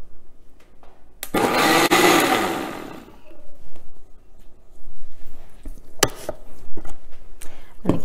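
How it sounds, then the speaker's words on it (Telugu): A mixer grinder whirs loudly for a couple of seconds as it grinds sprout dosa batter, then cuts off, leaving clinks and knocks of the jar and lid being handled. "మరోసారి గ్రైండ్ చేసుకుందాం."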